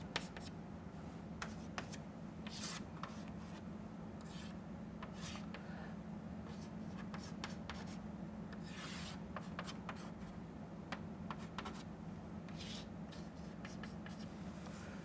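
A pen scratches across paper while a phase diagram is drawn by hand, producing quiet intermittent strokes and rubbing sounds over a steady low hum, with no talking.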